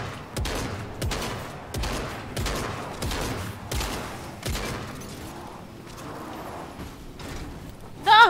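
Gunfire in Fortnite, a series of separate heavy shots spaced roughly a second apart, fairly loud and close, fading to quieter rumbling near the end, with faint voices in the background.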